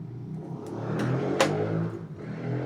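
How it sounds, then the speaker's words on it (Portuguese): Motorcycles pass along a street outside, a moderately distant engine rise and fade with a few sharp clicks on top, heard indoors at low level. "essas motos passando aqui na rua, Deus do céu, um barulhão"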